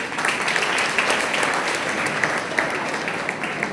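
A lecture audience at a music festival claps in dense, sustained applause. Many hands sound together at an even level throughout, with no speech on top.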